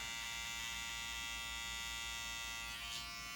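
An electric hair clipper buzzes steadily up close while trimming the hairline around the ear during a modern side-part haircut, a constant motor whine with no talking.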